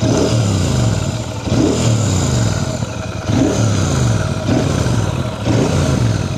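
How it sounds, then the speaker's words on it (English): Royal Enfield SM 650 motorcycle with its standard exhaust and the air cover off, idling and revving at the roadside; a loud, close, steady engine note rises in repeated blips about every one and a half seconds. "give you a sound of the exhaust without"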